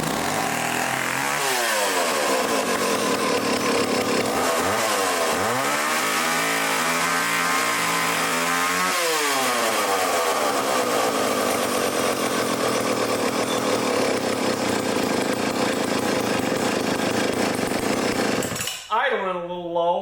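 A restored old chainsaw engine roars at high revs with a few rising and falling throttle sweeps, then drops to a low idle before cutting out near the end.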